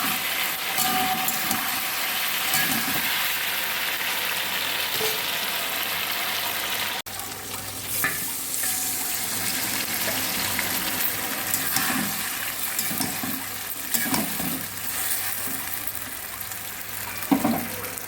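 Cauliflower manchurian stir-fried with tomato sauce, a faint steady sizzle with soft scraping stir strokes and an occasional clack.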